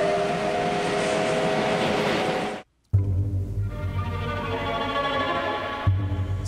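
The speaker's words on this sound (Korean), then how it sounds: "신임 총독을 싣고 부산에서 출발한 열차는" A steam-era train carrying a new governor-general departs Busan. A loud, steady rumble rolls along, breaks off abruptly, then returns as a lower chugging run with a rhythmic pulse.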